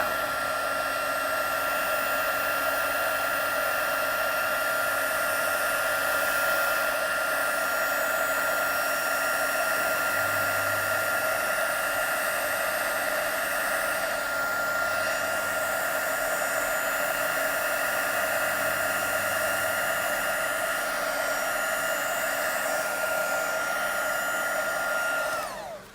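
A hair dryer blows steadily to dry tattoo ink, a loud, continuous whine and airy rush held close for a long stretch and cutting off at the very end, with no voices.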